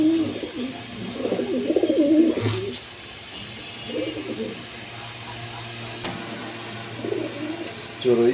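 Pigeons coo in a loft, repeated soft throaty bursts close by with pauses between, under low background noise and occasional clicks.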